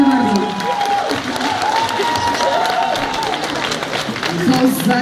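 Concert audience at Stodoła applauding and cheering steadily during an album christening, a dense crowd wash with a musical tone running underneath.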